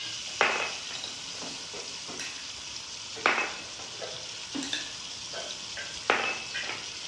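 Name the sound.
masala spices frying in a pan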